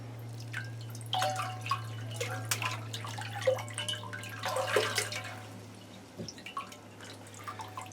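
Water drips and trickles irregularly from a freshly watered potted Oncidium orchid, with soft close splashes scattered over a steady low hum.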